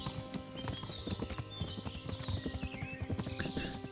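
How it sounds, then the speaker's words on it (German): Horse hooves clip-clopping in a steady trotting rhythm as a rider travels in the medieval game Kingdom Come Deliverance, close and continuous over soft background game ambience, with no talk. "Da kann man auch ab und zu mal auf dem Pferd sitzen und noch ein bisschen händisch durch die Gegend reiten."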